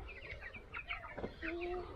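Chickens in a poultry house give a mix of clucks and chirps, moderately close over a low background hum.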